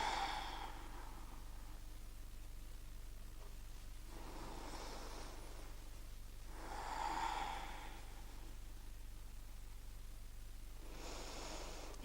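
Steady, soft breathing while holding a yoga pose, several slow airy breaths spaced a few seconds apart, close and quiet over a faint low room hum.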